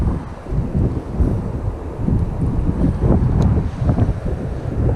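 Strong wind at the Alisal wildfire buffeting the microphone, a loud, continuous low roar and rumble with no talk.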